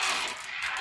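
Runes being drawn for a rune reading, a brief rattling clatter of small pieces shifting against each other, close and fairly loud, lasting under a second.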